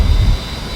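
A-10C Warthog jet engines roar at takeoff in the DCS World flight game: a loud, low rumble that is strongest at the start and eases slightly through a brief burst.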